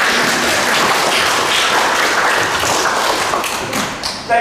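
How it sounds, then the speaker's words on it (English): A church congregation at a Sunday service gives sustained applause, a dense, steady wash of many hands clapping that fills the room and holds at an even level before thinning at the end. "Round of applause,"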